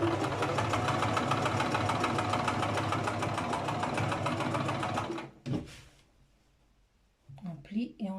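A sewing machine runs steadily for about five seconds, stitching a straight seam through fabric with a fast regular needle rhythm, then stops, leaving a short quiet pause and a few faint handling noises.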